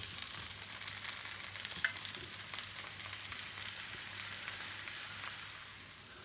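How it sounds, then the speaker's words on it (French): Mushrooms frying in a pan with a soft, continuous sizzle and occasional stirring scrapes, quiet and steady throughout, with no talking. "Et je rajoute les champignons."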